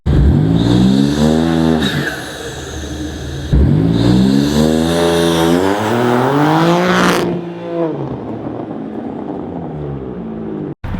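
An X4M Comp side-by-side UTV launches hard, its engine climbing through rising revs and shifts with a loud, close, continuous roar, then settling to a steady drone.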